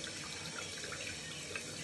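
Hot water runs steadily from a tap into a sink, a continuous close splashing hiss.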